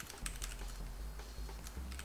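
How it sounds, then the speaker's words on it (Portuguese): Rapid clicking of fingers typing on a computer keyboard, with irregular bursts of keystrokes close to the microphone and no speech. "Tem alguém digitando na minha conta."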